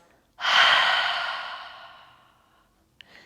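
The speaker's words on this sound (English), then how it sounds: "And then exhale through the mouth." A long, audible exhale out through the mouth during a yoga breathing practice, rising quickly then tapering off slowly over about two seconds, close and alone in a quiet room.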